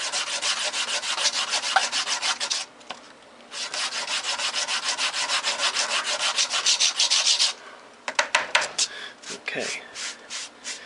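Sandpaper rubs against a wooden dowel in fast rhythmic strokes, close up, in two long bursts with a short pause, followed by a few scattered strokes.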